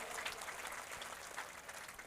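A crowd at a political rally applauds in welcome, a faint, steady wash of clapping that sounds distant and low in level.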